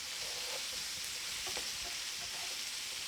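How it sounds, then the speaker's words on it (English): Chopped onions and garlic sizzling and frying in oil in a pan as they are stirred: a steady, soft hiss with faint scraping touches, heard alone. "And now we start to stir."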